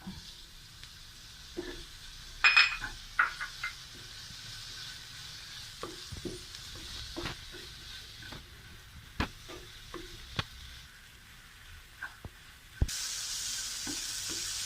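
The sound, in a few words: chopped tomato sautéing in a pan for dal fry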